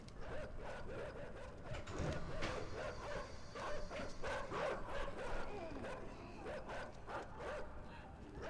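Dogs in the video game Inside bark and yip in short repeated bursts, moderately close, over a rustling background with no talk.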